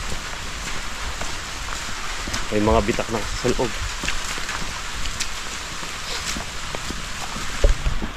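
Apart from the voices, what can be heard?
rain falling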